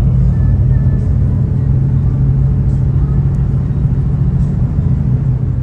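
Tami Jaya suite class bus heard from the lower deck, a constant low engine and road rumble droning steadily through the cabin, faint knocks now and then.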